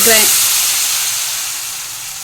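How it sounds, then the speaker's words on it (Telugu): A sharp burst of sizzling as cumin seeds hit hot oil in a pan, loud at first then settling into a steady hiss that slowly fades. "అదే ప్యాన్లో ఆయిల్ వేసుకున్న తర్వాత ఇది జీలకర్ర అయితే వేసుకోవాలి"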